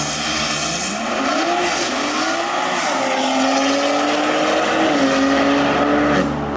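A tuned BMW M4 with S58 engine, downpipes, midpipes, intakes and open exhaust flaps driven hard on the road in sport mode, its steady loud engine note rising and falling through revs, close and continuous with no talk.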